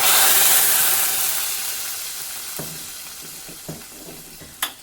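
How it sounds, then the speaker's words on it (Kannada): Malabar spinach sambar comes to a boil in a pot, giving a steady soft hiss and bubbling that fades gradually, with a few light clinks near the end. "ಈಗ ನೋಡಿ ಸಾಂಬಾರು ಸ್ವಲ್ಪ ಸ್ವಲ್ಪ ಕುದೀತಾ ಬರ್ತಾ ಇದೆ"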